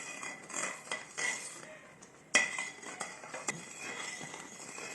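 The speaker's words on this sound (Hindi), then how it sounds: "अब सलसल चम्मच हिलाते रहे ताकि नीचे ना लगे, जले ना।" A spoon scraping and clinking against a pot while semolina halwa made with desi ghee is stirred, a steady run of soft metallic scrapes with one sharp clink near the middle, close and alone.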